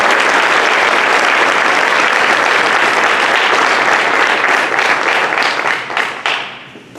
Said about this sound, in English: give our 2022 lead learners a round of applause